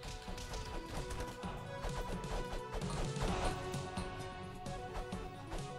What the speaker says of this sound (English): See what I'm just flying around and smashing things?